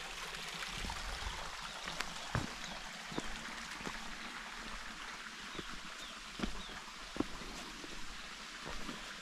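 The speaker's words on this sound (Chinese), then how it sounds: "小溪，" A small stream flows through mountain terraced rice fields at Longji, a steady soft babbling wash at moderate distance, broken by occasional light clicks and drips.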